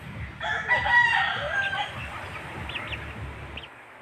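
A rooster crows loudly and close by among breeding chickens, joined by scattered clucks and softer fowl calls afterward, with no talking.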